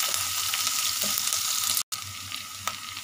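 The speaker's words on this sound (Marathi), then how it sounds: "आता असं भिजून घ्या मस्त ब्राऊन होईपर्यंत कांदा।" Onion fries in a pan until browning, a constant close sizzle with light stirring taps and a brief dropout midway before the hiss resumes.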